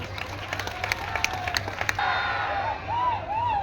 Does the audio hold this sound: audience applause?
yes